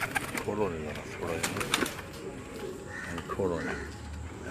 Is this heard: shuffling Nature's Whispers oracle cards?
no